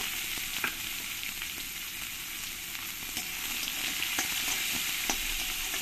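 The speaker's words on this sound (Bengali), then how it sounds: "পেঁয়াজগুলোকে আমি ভালো করে লাল লাল করে ভেজে নেব।" Chopped onions frying in a pan for paneer masala, a steady broad sizzle with scattered sharp crackles and spatter pops throughout, close and fairly loud, no voices.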